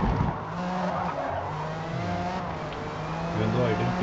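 A Jaguar XJR-9 race car roars around Yas Marina Circuit in a racing game, engine droning with shifting pitch as tires squeal and skid through corners, a voice talking over it.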